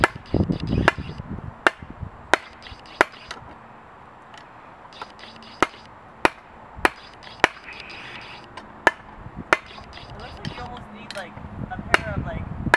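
Metal struck with a big hammer at a forge, about a dozen sharp ringing blows spaced irregularly over a low background rumble, close and loud.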